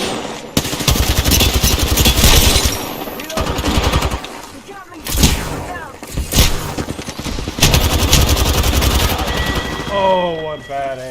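Heavy automatic gunfire in the Apex Legends video game, sustained bursts of rapid shots across most of the stretch with brief gaps, close and loud, mixed with game effects and some voice.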